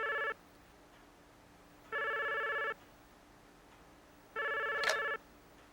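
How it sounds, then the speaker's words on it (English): Telephone ringing in three separate bursts, each with a long pause in between. The rings are clear and fairly loud, with no talk over them. "The phone! The phone!"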